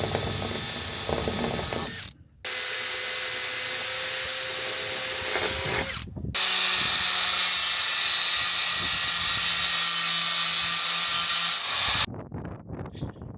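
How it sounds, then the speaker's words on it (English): Power drill drilling out rivets on a box truck roof cap, loud sustained whining bursts separated by brief pauses, with wind noise and no talk. "So I'm gonna go ahead and drill these few out"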